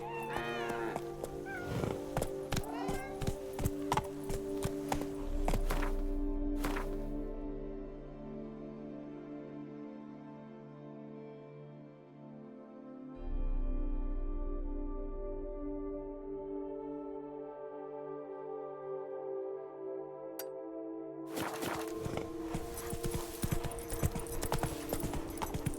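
Horse hooves clip-clopping in The Witcher 3 video game, steady rhythmic hoofbeats near and clear, with music and ambient game sounds around them, a stretch where the hooves drop out, and a brief whinny-like cry.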